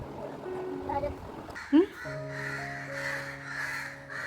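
A single loud crow caw rings out near the middle, over a quiet hum of outdoor background noise.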